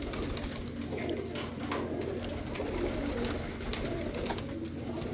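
Breeding pigeons coo softly in a loft, faint low calls repeating under a steady background hiss and rumble, with occasional light clinks.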